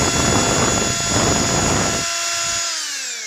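A power drill boring a hole through the foot of a laminated paper mache figure made in a plaster mold, whirring loudly and steadily up close before spinning down and winding off at the end.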